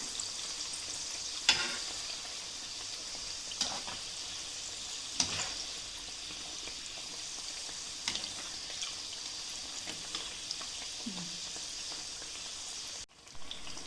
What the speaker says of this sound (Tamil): நான் லோ ஃப்ளேமில் வச்சு எப்படி பொரித்து எடுக்கிறேன்னு